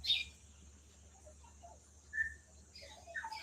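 A few liquid, gurgling calls of a Montezuma oropendola ring out at a distance over a steady forest hum of insects, with brief pauses between the calls.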